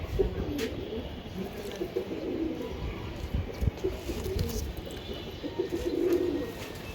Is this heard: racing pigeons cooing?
yes